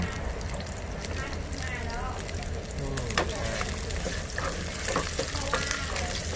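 Pork and shrimp stir-fried in a hot pan for pad thai, giving a steady loud sizzle with scraping stirring strokes throughout while someone talks over it.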